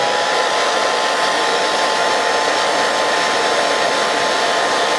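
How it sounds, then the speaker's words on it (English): A blow dryer running on its low setting, used to heat and soften tape on a Voltron Blazing Sword collectible figure's packaging, gives a steady, loud, continuous airy whir that holds unchanged throughout. "I'll go ahead and do one example on how to remove the tape with a blow dryer"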